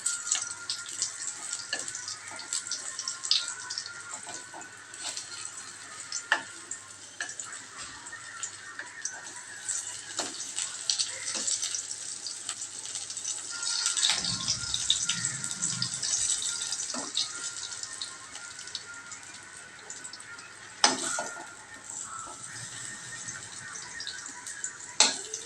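Eggplant slices frying in a pan of oil, a steady bright crackling sizzle with a few sharper spits and pops, close and continuous.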